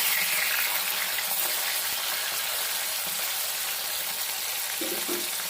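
Tilapia fish frying in hot oil, a steady loud sizzle holding continuously with no pauses and no voices.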